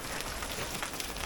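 Rain falling steadily outdoors in cold weather, a soft, dense patter of drops on surfaces, faint and continuous for a brief moment with no voices.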